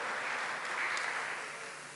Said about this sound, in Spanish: Por favor, un aplauso para Lionel Brosi.